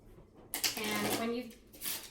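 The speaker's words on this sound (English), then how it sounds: "Okay, and then we'll shuffle these, the other cards, and give everybody 2." Bristol 1350 game cards being shuffled by hand, a dense papery riffle of about a second that stands out against a quiet room.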